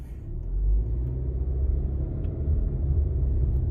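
A 2019-or-later Subaru Ascent pulls away gently at light throttle on a quiet road, producing a low, even engine and road rumble heard from inside the cabin, without distinct revving.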